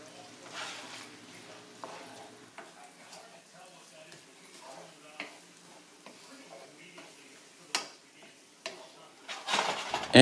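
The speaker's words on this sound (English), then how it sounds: "we're going to start with some melted butter. And in goes our diced onion and celery." Diced onion and celery sauté in melted butter with a faint, steady sizzle, while a utensil occasionally clinks and scrapes against the pan under a speaking voice.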